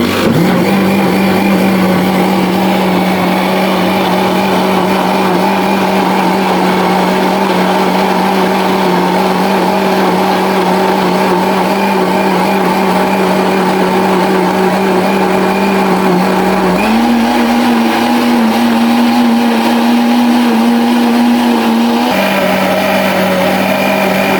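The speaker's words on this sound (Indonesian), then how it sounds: "Yuk kita blender dulu. Sekarang blender." Kitchen blender whirring steadily while blending sambal terasi ingredients, a loud continuous motor drone that runs for over twenty seconds with a brief pitch rise near the end as the load shifts.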